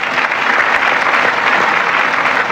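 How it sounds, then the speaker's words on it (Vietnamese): Studio audience on a Vietnamese TV game show applauds steadily and loudly throughout, a dense sustained clapping with no pauses. "Hãy dành một tràng pháo tay cổ vũ cho bạn Thu Huyền."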